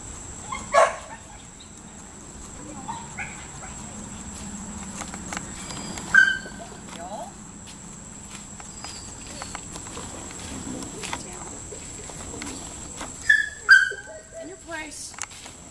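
A dog shifting about on a tipping platform bed indoors, with scattered light thumps, scrapes and clicks spread across the stretch, plus a few faint whimpers or yips over a steady background hum.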